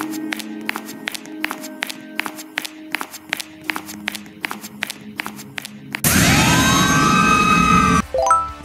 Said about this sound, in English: This character bears a police siren.